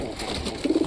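Pigeons nesting on eggs coo softly nearby, with a short, low, throaty burble rising near the end over faint background noise.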